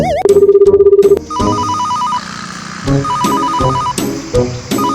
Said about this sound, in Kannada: ಈ ಟೈಮಲ್ಲಿ ಅಕ್ಕ ಬ್ರೋಕರ್ ಫೋನ್ ಮಾಡಿದ್ರು